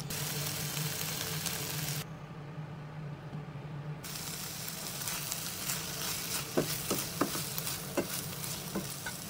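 Beef masala dry-frying in a pan on a medium-low flame gives a soft, continuous sizzle, with a few light taps and stirs near the end, quiet and alone.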